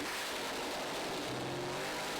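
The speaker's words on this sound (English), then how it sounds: "Monte Calvo's car in the left lane, Powers in the right lane." Pro Stock drag racing car accelerating down the lane at a drag strip, a steady, dense engine roar with a rising tone, heard from a distance without talk.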